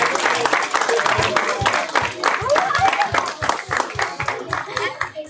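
Audience applause following a student art presentation at a school Black History Month event: a dense, steady round of many hands clapping, loud and sustained, with crowd noise and voices mixed in.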